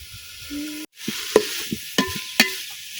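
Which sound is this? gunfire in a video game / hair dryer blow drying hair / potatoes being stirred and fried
potatoes being stirred and fried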